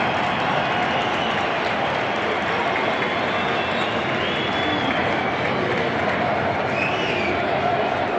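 Stadium crowd at the Santiago Bernabéu on a match day, a massive continuous roar of voices from the stands, distant and dense with no pause.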